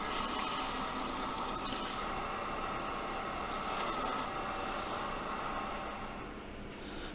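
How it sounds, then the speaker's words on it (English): Continuous rough rasping as sandpaper is rubbed steadily against a steel knife blade, close and even, with no talking. "Right here I'm just sanding what will be the blade of the knife flat,"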